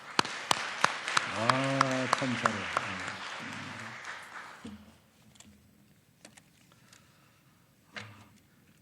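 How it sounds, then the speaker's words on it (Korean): Congregation clapping in a church during a Sunday worship service, a burst of applause under singing voices that fades after a few seconds, followed by quieter room sounds and a brief voice. "박수 한번 하겠습니다"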